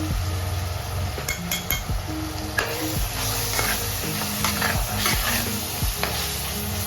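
Turmeric, red chilli, coriander powder and Malvani masala sizzle in a hot pan while being stirred, with a constant frying hiss broken by repeated scraping and clinking strokes of the spoon against the metal.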